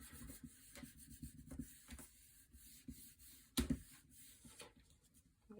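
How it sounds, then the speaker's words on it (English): Quiet rubbing strokes of a bone folder burnishing paper, a series of soft scraping swipes in an uneven rhythm with one sharper stroke partway through, close and faint. "I'm going to burnish this with my bone folder"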